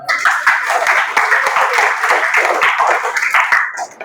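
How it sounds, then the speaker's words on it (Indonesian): A class of students claps together during a school counseling session, a dense run of quick, sharp handclaps that holds steady and tapers off at the end, with a few voices mixed in. "Baik, tepuk tangan dulu."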